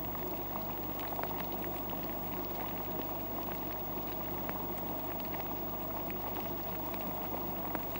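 Liquid boiling steadily at just over 100 degrees Celsius during distillation, a dense continuous bubbling and hissing close by, with small pops scattered throughout and no other sounds.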